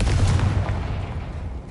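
A Confringo spell explodes in the game Hogwarts Legacy: one deep, rumbling blast with a roaring, fading tail, heard close and alone.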